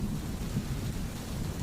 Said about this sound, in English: Outside, the storm rages on